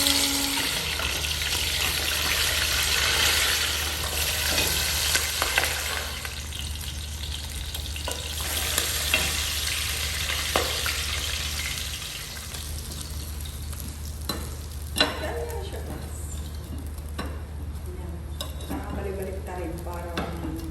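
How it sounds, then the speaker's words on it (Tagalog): Chicken frying in a pan: a dense, loud, continuous sizzle close by, with occasional stirring clatter and scrapes and a low steady hum underneath throughout. "So, piprituhin na natin ang ating chicken."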